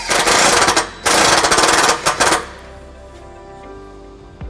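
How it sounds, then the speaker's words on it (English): A self-tapping screw driven into a 2018 Jeep Wrangler JK frame with a power tool and 1/4 inch socket gives loud, close, harsh rattling bursts in two or three spurts, then quieter ambience. "We're going to use a provided self-tapping screw and a 1/4 inch socket."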